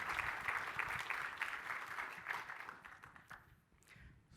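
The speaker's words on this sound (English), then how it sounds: "I think you guys deserve a big round of applause on that" An audience applauds in a steady wash of clapping that gradually thins out and fades toward the end.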